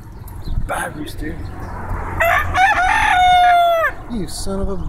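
A rooster crows once, loud and close, a rising then long held call in the middle, with voices and farmyard noise around it.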